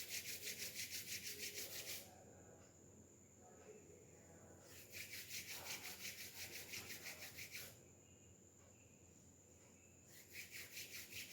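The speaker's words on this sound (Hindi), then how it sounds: "अब हथेलियों को गर्म करेंगे, चेहरे पे लगाएंगे, ऊपर से नीचे 3 बार रब करते हुए" Palms rubbing up and down over the face during a guided meditation and Reiki session, a soft repeated swishing friction in a few slow strokes, close and quiet with a faint steady insect-like tone in the background.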